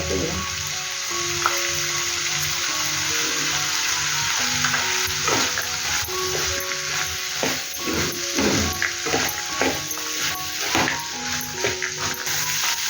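Mixed pulses and vegetables sauté in a pan, with loud, continuous sizzling and frequent scraping and clattering as a utensil stirs them close by.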